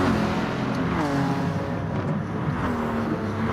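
Porsche and Mercedes race cars in the Gran Turismo video game at St. Croix, engines whining loudly and steadily as they sweep past together, with pitch shifting as they go by.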